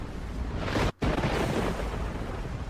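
Torpedoes launch from the USS Helena warship in the naval video game Battlestations Pacific, a loud booming burst and rumbling rush that cuts out briefly and then keeps roaring on.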